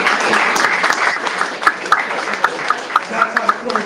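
An audience claps after a storyteller finishes a tale at a live storytelling event, a loud, sustained burst of applause with scattered sharper claps that thins out toward the end.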